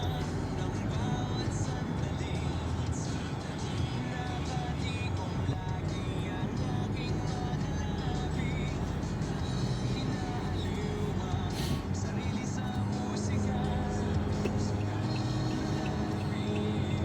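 Steady road traffic on an elevated skyway, a dense continuous rumble of passing cars and buses heard at a constant level with no clear individual events.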